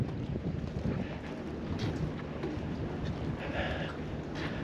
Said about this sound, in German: Der Wind pfeift ganz ordentlich